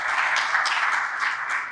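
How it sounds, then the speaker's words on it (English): A brief burst of audience applause for keynote and panel speakers at a conference session, a dense, even patter of many hands clapping at moderate distance. "let's give a round of applause to our 2 keynote and 4 panel speakers"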